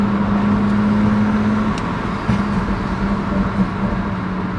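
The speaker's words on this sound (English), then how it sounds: "Oh, you can hear my turbo." A BMW 540i with the B58 turbo engine and a catless downpipe drones steadily from inside the cabin, a continuous low engine hum with a faint brief whoosh partway through, no talking.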